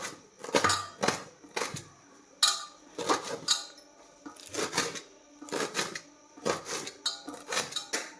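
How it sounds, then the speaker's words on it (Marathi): A knife finely chops fresh native coriander on a board in a home kitchen, producing sharp, irregular clusters of crisp taps and clicks with short pauses between bursts, close and fairly quiet. "कोथिंबीरही मी चिरूनच घेणार आहे।"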